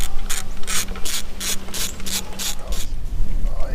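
A ratchet socket wrench clicks in quick repeated bursts on the lower unit of a 1993 Evinrude 40 hp outboard, loud and close with a faint metallic hum beneath.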